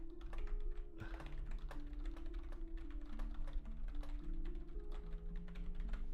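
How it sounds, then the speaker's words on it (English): Typing on a computer keyboard, a steady patter of close, quiet key clicks under a soft tonal hum, with no voices. "I'm typing."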